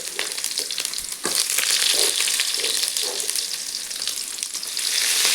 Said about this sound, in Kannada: ಸಾಸಿವೆ ಜೀರಿಗೆ ಹಾಕ್ಬಿಟ್ಟು ಒಗ್ಗರಣೆ ಮಾಡ್ಕೊತಾ ಇದ್ದೀನಿ